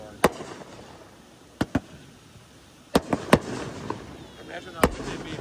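Fireworks show shells burst at a distance, with several sharp separate booms spread irregularly over a low background of voices and crowd noise.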